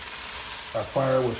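Sea scallops searing in a hot pan give a steady, close sizzle, and a voice speaks briefly over it near the end.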